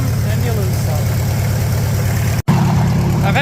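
A Farmall H tractor with an open header idles loudly and close by in a steady, rapid low chugging throb that cuts out for a split second near the end before resuming.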